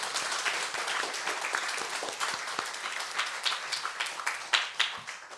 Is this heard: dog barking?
no